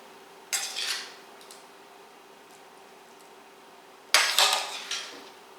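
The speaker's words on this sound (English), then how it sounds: "just spread that out with the back of a spoon" A spoon spreading a vegetable and bean mixture in a baking dish for a meatless Tex-Mex casserole, two short bursts of scraping and clinking against the dish separated by a quiet gap, close up.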